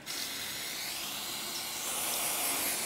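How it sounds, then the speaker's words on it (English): Brake cleaner sprayed from an aerosol can onto an electronic fluorescent lamp ballast, a steady close hiss lasting throughout with no talk. "we're going to be spraying with this with brake cleaner"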